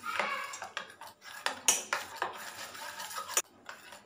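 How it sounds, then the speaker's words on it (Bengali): Spiced stuffing for spiny gourds being mixed by hand in a metal bowl, giving a close, irregular series of squelching scrapes and light clinks with a couple of sharp taps, heard alone. "দেখো, আমি খুব ভালো করে মাখিয়ে নিচ্ছি।"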